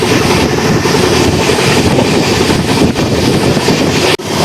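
The Chennai to Tirupati Express cruises at about 105 to 110 km/h, a loud, steady broadband rumble heard from inside the train, with one brief dip near the end.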